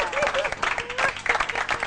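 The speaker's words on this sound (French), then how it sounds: "Et si vous voulez que l'équipe Paradise remporte le point, applaudissez" A studio audience at a French celebrity challenge game show applauds for one team, a short burst of clapping that pulses in uneven waves with voices mixed in.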